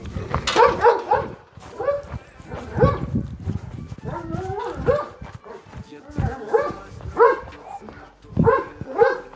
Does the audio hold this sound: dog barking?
yes